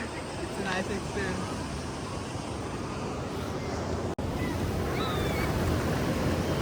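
Ocean waves at Suryalanka beach roll in as a broad, continuous roar of surf, with gusty wind buffeting the microphone and a brief dropout partway through.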